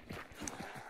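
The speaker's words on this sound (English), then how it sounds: "That horse is not dead." A horse in the video game Hunt: Showdown makes a few soft, uneven hoof thuds and stirring sounds, faint and brief in a quiet scene.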